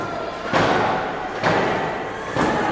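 A wrestler lands a moonsault in the ring during a pro wrestling main event between Shean Christopher and The Trickster: loud, close body thuds hitting the mat, three heavy impacts roughly a second apart over steady crowd noise.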